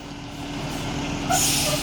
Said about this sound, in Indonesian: Nih, datang lagi Gumarang Jaya dari Jabodetabek nih.